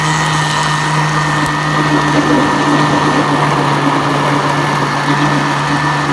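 A blender runs continuously at high speed with a loud, even whir as it blends beetroot juice with mint and sugar.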